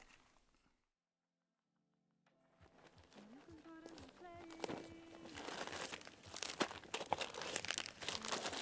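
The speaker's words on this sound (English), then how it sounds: "I just empty out my food bag and then fill it back up" Plastic food bag on a Pacific Crest Trail thru-hike being emptied and repacked, with loud, busy crinkling and rustling that builds after a quiet start and continues steadily up close.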